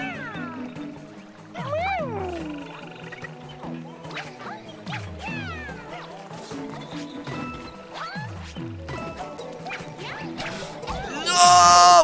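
Cat meows from the video game Super Mario 3D World, several bright repeated mews over game music and effects, growing louder with a burst of noise near the end.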